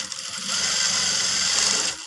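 Sewing machine running steadily for about a second and a half, stitching a blouse lining with a double stitch, a close, even mechanical whirr that starts and stops abruptly.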